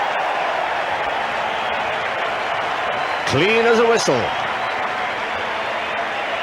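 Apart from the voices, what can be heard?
cricket crowd applauding a batsman's shot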